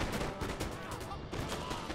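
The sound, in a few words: musket volley gunfire from the video game Napoleon: Total War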